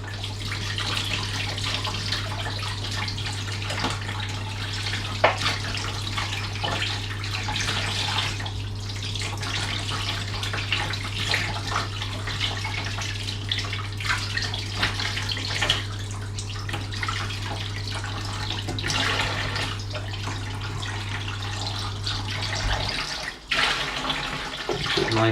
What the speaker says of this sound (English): we want cold water, not hot water, for obvious reasons